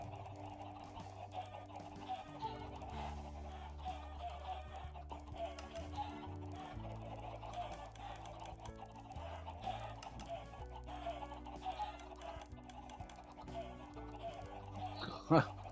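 Video game chickens cluck steadily over a low synthetic background hum, with one brief sharper squawk near the end, in a crowded, cramped pen.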